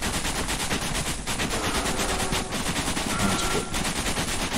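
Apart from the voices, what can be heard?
gunfire shooting at the player in a video game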